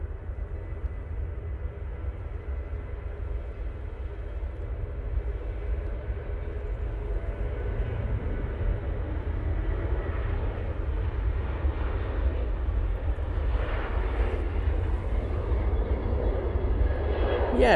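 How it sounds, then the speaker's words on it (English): Ryanair Boeing 737-800 jet rolling for takeoff at Manchester Airport, a steady loud engine roar that builds gradually over the runway run, heard from a distance outdoors. "Ryanair is on the roll. Using 737-800."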